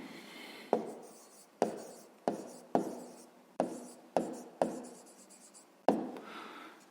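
A pen writing out a math solution on paper, a series of about eight short close scratchy strokes, each starting with a tap and fading quickly, with quiet pauses between them.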